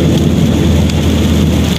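Heavy rain roars steadily around a vehicle driving on a bypass road at dusk, with a constant low road and engine rumble beneath the dense wash of rainfall and no pauses.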